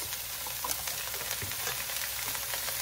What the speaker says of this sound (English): It will melt down. And we will add our onions.